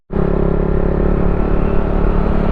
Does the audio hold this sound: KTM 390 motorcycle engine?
yes